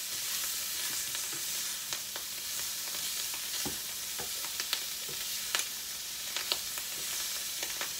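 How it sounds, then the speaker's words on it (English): Jambalaya simmers in a pot with a steady, close sizzling bubble, broken by scattered clinks and scrapes as a spoon stirs it now and then. No one speaks. "And I'm going to let this simmer at medium for 30 minutes."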